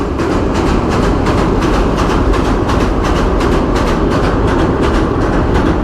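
Loud, steady rumble of a train rolling along the rails at about 40 km/h, with a rapid repeating clatter of wheels over the joints throughout.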